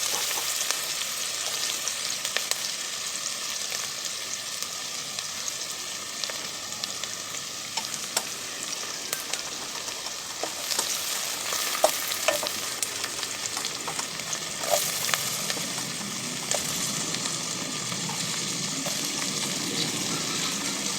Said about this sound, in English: I'm giving it a perfect stir so that they can cook perfectly.